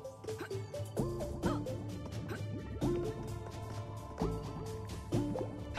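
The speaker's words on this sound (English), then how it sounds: "Oh, more drips." Liquid drips in the video game Double Cross, a series of ringing, pitched droplet plinks falling irregularly over a faint hum, each drop clear and resonant.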